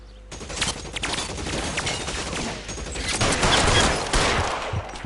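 Rapid gunfire in L.A. Noire, a dense fusillade of close, loud shots rattling continuously for several seconds with no voices.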